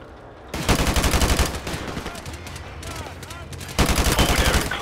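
Bursts of automatic gunfire in Call of Duty Modern Warfare, loud and rapid, starting abruptly, easing through a stretch of scattered shots, then surging again near the end, with no voices.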